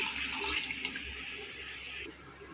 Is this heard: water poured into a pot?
yes